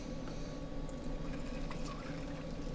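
Margarita mix pours into a cocktail shaker as a soft, steady liquid trickle and splash, faint and close, lasting a few seconds with no talking.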